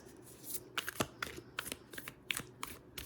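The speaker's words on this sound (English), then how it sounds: "These cards are pretty new, so they're a little bit hard to shuffle" New, slightly stiff oracle cards being shuffled by hand, a quick series of soft riffling snaps and slides in uneven bursts, close and fairly quiet.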